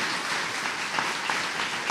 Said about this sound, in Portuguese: Vamos aplaudir a palavra do Senhor bem forte.